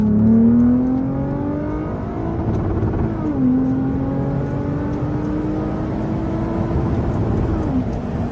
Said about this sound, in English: I'm gonna floor it to red line.